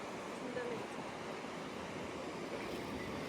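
A stream flowing beside a riverbank in a Nepali village, a faint, continuous rushing wash that holds steady throughout.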